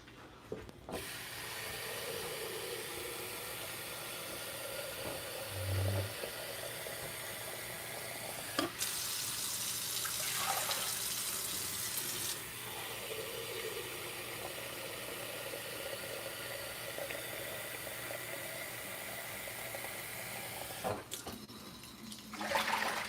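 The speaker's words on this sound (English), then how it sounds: "So I just turned that on. We're gonna put some water in it." Tap water pours steadily into a pot for a vegan seitan made from vital wheat gluten and broth, a continuous close rush lasting over twenty seconds with no talking.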